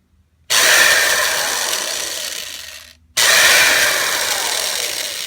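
A power drill whines steadily as it bores a hole in a 1993 Porsche 911 Carrera 4 (993) for a secondary air injection flush, stopping briefly before starting again for a second sustained run; loud and close.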